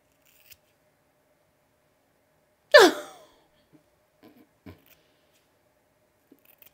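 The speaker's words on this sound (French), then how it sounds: "je vais prendre mon ciseau et je viens couper" A single crisp snip of scissors cutting hair close by, followed by a few faint soft handling sounds in an otherwise quiet room.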